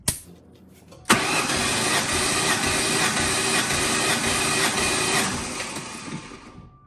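A Ford Mustang Cobra engine cranks steadily on the starter during a compression test, a loud continuous rhythmic churning for several seconds that fades out near the end.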